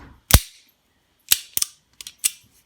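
A restored Colt Official Police .38 Special revolver, once seized by rust, gives a sharp single crack followed by several lighter, snappier reports at uneven intervals. The sounds are close and isolated against near silence.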